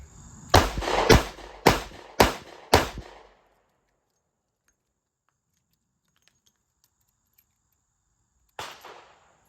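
Five sharp revolver shots from a .38 Special/.357 Magnum revolver crack off in quick rapid-fire succession, followed by a long pause and one more shot near the end.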